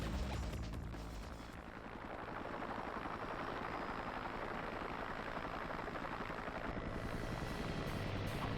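Helicopter in the Xbox game Ninja Gaiden Black, a continuous low rotor drone with rumbling, crashing game effects mixed in, steady and fairly loud throughout.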